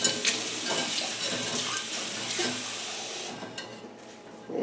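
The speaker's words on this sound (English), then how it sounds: "And now, this vase is going to get a little wash out." Running water pours from a tap as a vase is rinsed out, producing a steady close splashing rush that shifts in tone as the vessel fills, then eases slightly near the end.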